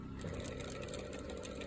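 A sewing machine stitches a shirt collar, a quick steady mechanical whir with a fast needle pulse, fairly close and continuous through the short stretch.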